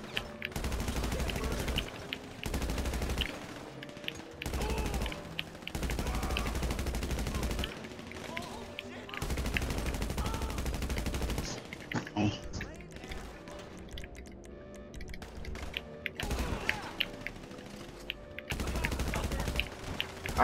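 Heavy gunfire in GTA Online's Doomsday Heist Act 3 comes in long loud automatic bursts separated by short gaps, with someone talking over the shooting.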